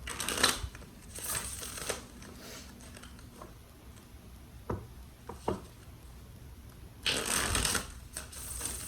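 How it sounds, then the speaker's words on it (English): Tarot cards being shuffled in short riffling bursts, with a louder flurry at the start and a long sustained shuffle near the end, close and alone with no talking. "Let's do 2 more shuffles for Leo, or for Leo's person."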